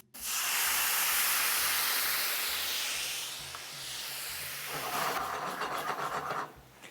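White wine poured into a hot pan of prawns and garlic gives a loud, steady hiss that eases and then returns with a rougher, bubbling sizzle before it cuts off.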